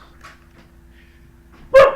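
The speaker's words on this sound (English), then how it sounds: "Don't mind the dog." A dog gives a single loud, sharp bark near the end after quiet room tone and faint indistinct sounds.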